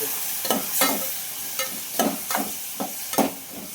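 A utensil scrapes and stirs through mixed vegetables in a pan in quick repeated strokes, with a soft sizzle between them, close by.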